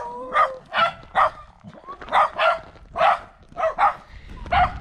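A beagle barks repeatedly near a Highland lodge on a Scottish trail, a run of about nine loud, close yelping barks in an uneven rhythm.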